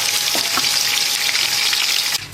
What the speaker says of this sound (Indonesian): Digoreng hingga kulit ayamnya kering.